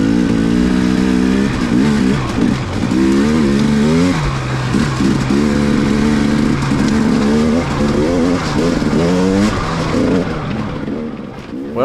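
Dirt bike engine while riding in cold air, loud and close with a continuous buzzing drone that rises and falls as the throttle opens and eases through the ride.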